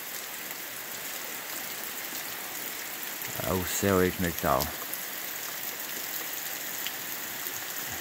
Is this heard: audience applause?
no